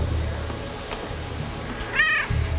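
A cat meows once, close and clear, near the end, over the steady low hum of a Dell R610 server running Proxmox.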